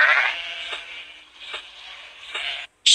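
A sheep bleats several times in short wavering calls, close and fairly clear, with brief pauses between them.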